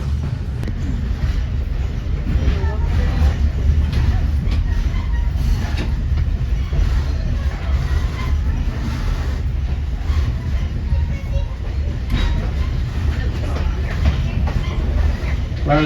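Conway Scenic Railroad passenger train rolling along the tracks past a rail yard, a loud continuous rumble with steady rhythmic clatter of wheels and cars throughout.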